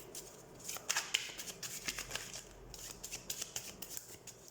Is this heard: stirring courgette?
no